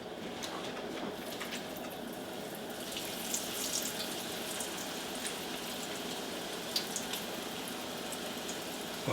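Kitchen tap running steadily into a sink while hands are washed, a soft continuous splashing hiss with faint clinks and drips, fairly quiet and close, no talking.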